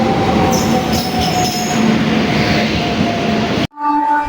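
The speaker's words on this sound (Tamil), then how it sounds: "இந்த ட்ரெயினில் தான் கைஸ் இப்போ நம்ம போகிறோம்." A passenger train runs at night on the Bangalore to Salem route, a loud continuous rumble with squealing metallic tones and high whines, then a sudden cut to a quieter ringing hum at the end.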